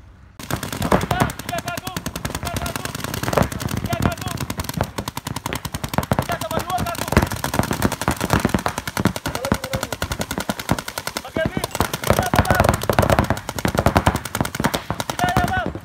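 Paintball markers fire in rapid, dense bursts of sharp cracks during a paintball clinic in Indonesia, near and loud, continuing almost without pause.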